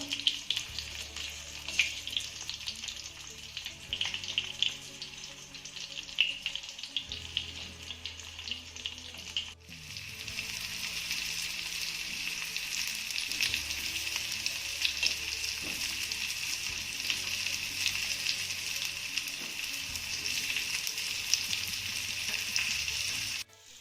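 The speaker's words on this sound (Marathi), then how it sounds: "तेलामध्ये आपल्याला ही कारली चार ते पाच मिनिटं चांगली परतून घ्यायची आहे" Bitter gourd pieces sautéing in oil for a steamed masala karela, a continuous sizzle that lasts about twenty seconds, with a brief break near the middle and no talking.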